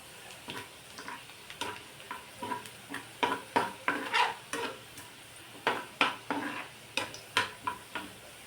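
Wild chuch leaves fry in a pan, the sizzle running underneath a rhythmic series of stirring scrapes and utensil taps roughly every half second, close and fairly loud, with no one speaking.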